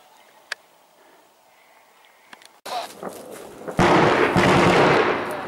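A 160 mm cannon fires on the Masbah checkpoint during the battle for Khan Shaykhun in February 2014: faint distant cracks, then a sharp report and a heavy, loud blast that rumbles on, with some voices in the background.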